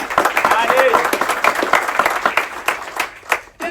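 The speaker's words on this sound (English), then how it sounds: "In your big applause, our Mew and Adi." An audience claps for crew members being introduced at a celebration aboard a ship, lively irregular clapping with distinct near hand claps, and people talking and calling out over it before it tapers near the end.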